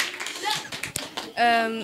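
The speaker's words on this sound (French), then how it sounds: "Applaudissez très fort pour elle." At a school event in Tunis, a small audience breaks into short scattered applause that ends in a clear voiced shout or cheer, with people talking over it.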